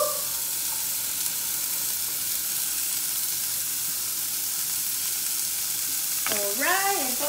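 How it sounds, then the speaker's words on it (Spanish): Food fries in a pan with a constant loud sizzle and hiss that runs throughout, with a voice briefly speaking near the end. "Sizzling, sizzling. You like the sizzling"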